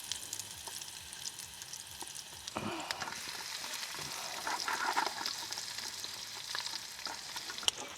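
Onions sizzle and fry in oil in a pan at a campsite, a steady close crackle with occasional stirring scrapes and no talking.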